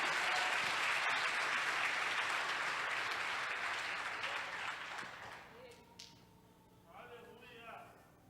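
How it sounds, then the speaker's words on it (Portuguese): A congregation at a Portuguese-language church service claps in a full, sustained round that gradually thins and fades, leaving scattered claps and a few voices speaking at the end. "Você pode aplaudir o Senhor, querido?"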